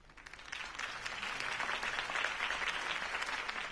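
A crowd in a Batman video game applauds Harvey Dent's campaign speech, swelling from a quiet start into a sustained, even roar of many hands clapping with no voices over it.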